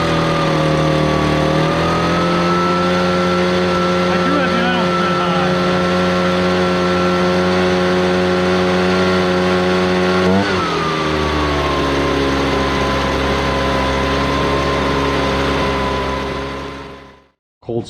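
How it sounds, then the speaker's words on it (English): A Ryobi BP42 backpack leaf blower running with its idle set high, a loud, steady two-stroke engine drone with a brief pitch shift partway through before it cuts off near the end. "Here's a startup of the Ryobi BP42."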